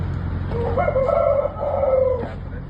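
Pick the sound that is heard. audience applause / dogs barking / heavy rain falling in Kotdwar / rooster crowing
rooster crowing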